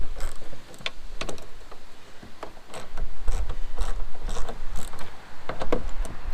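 A 10mm socket wrench loosens the side mirror bolts on a Subaru BRZ, producing a string of close, sharp ratcheting clicks and metallic ticks in uneven bursts.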